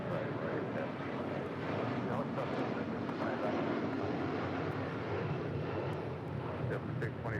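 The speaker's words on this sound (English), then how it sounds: "That is United 1128 departing to Newark on a 757-200" A United Boeing 757-200 jet departing at a busy airport, its broad steady engine roar filling the scene from start to end, with people talking over it.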